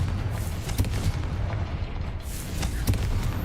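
A Confringo fire spell from Hogwarts Legacy bursts as a dull, booming explosion. Sharp cracks punch through a steady rumbling bed over a few seconds, with a heavy low thump near the end.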